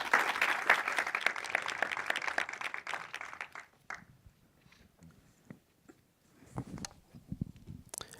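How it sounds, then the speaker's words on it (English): Applause from an audience at an opening-day artist panel talk fills the first few seconds as a moderate patter of clapping, then fades to near quiet with scattered faint knocks and stray claps toward the end. "big round of applause for our panelists and our visitors here this weekend"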